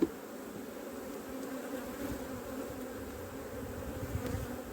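Honeybees buzzing densely around a hive frame while a swarm is being prepared outdoors, a continuous droning hum, steady and close, with no one speaking.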